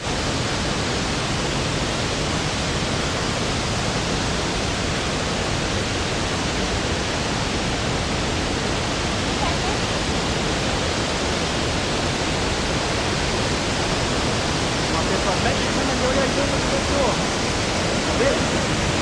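A broad, constant roar of the Cachoeira do Mutum waterfall in Amazonas, close and loud and unchanging throughout, with no other distinct sounds breaking through.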